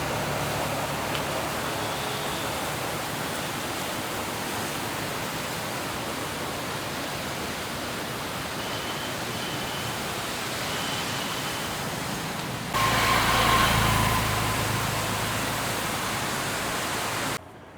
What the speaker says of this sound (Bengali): জল ছেড়েছে, জলটা ছেড়েছে, তার আওয়াজটা শোনো।